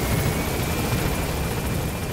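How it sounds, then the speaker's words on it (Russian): A helicopter drones in Metal Gear Solid V, a loud dense rotor and engine roar that fills the clip continuously, close and steady with no talking. "Все, вертолет ушел."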